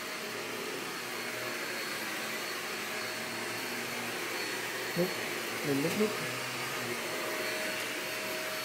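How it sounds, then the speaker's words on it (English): A household vacuum cleaner drones steadily and evenly throughout, with a brief voice and a few small sounds from a young golden retriever puppy nearby partway through. "No reason to be around that big scary vacuum."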